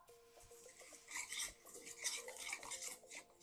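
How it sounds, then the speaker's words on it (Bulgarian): Lamb being stirred together with garlic, black pepper and salt, producing close scraping and clinking of a utensil against a dish in an irregular rhythm, with no talk. "Разбъркваме."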